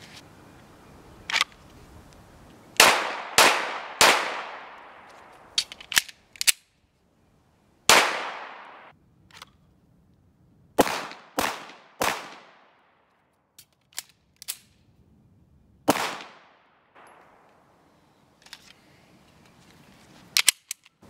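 A Canik TP9SFX pistol fires at a target, about a dozen sharp, loud cracks in quick clusters with pauses between strings and ringing decays.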